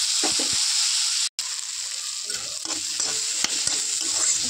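Rice with cumin and chili powder frying and being stirred in a pan, an even sizzling hiss with scattered spatula scrapes and one momentary dropout, no one speaking.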